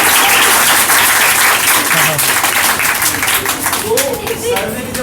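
Audience applause fills a presentation about a mobile game company, loud and dense with steady clapping, fading slightly toward the end as voices murmur underneath.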